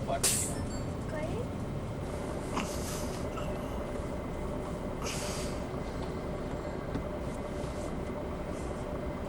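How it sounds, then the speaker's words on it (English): A tram rumbles past on a busy city street, its steady low drone filling the scene with a couple of brighter screeching accents. "This is the tram in the city."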